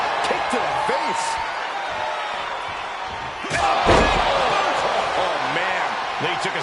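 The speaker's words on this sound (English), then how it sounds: "Oh, a kick. Wow. Oh, man. Kick to the face." A kick to the face lands with one loud, sharp slam in the WWE 2K24 wrestling video game, heard over steady crowd noise and commentary.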